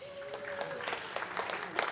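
Scattered clapping from the audience at a high school spring band concert, light and uneven over a steady crowd murmur, with a tone held underneath.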